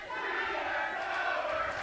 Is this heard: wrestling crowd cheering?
yes